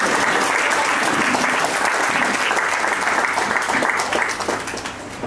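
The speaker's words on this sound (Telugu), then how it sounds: "ఇప్పుడు మనం మన చప్పట్లతో సార్ని స్టేజ్ మీదకి స్వాగతించాం" Audience applause welcoming a teacher onto the stage at a school get-together, a dense, steady wash of clapping from a crowd that holds loud throughout and tapers slightly at the end.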